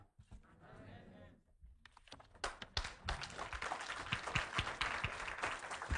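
A church congregation at a Sunday service breaks into applause, starting after a brief quiet stretch with a voice, then building into sustained, dense clapping from many people that carries to the end.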